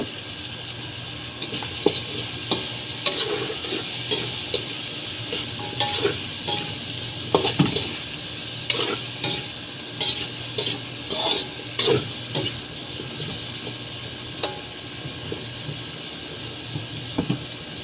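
Mixed vegetables stir-fry in a hot pan, with steady sizzling broken by repeated scraping and tossing strokes that come in uneven bursts close to the mic.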